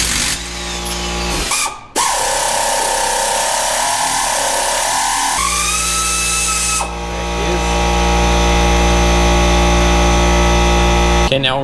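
A power tool whirs and ratchets while removing the crankshaft pulley and harmonic balancer from a 5.9L Magnum V8 in a Dodge Dakota R/T, starting with a short burst and then running in long, loud, steady stretches close by.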